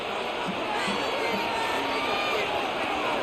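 Stadium crowd roar from a Madden NFL game, Lions versus Bills in the fourth quarter on third and inches, a steady dense din of cheering and shouting that holds at an even level throughout.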